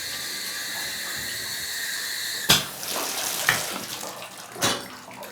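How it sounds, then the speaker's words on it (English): Shower running into a bathtub with the drain stopper in during a home inspection: a steady hissing spray of water with a few sharp knocks and splashes partway through, close by and without talk. "So when I turn the shower on, I put the drain stopper on to see if it does actually hold water."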